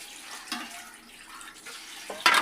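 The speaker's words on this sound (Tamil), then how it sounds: "புளியை வந்து தண்ணியில் அலசி தான் போடணும்" Tamarind being rinsed by hand in a bowl of water while cooking a Tamil murungai keerai dish, giving soft sloshing and splashing with a louder splash near the end, close by and with no talking.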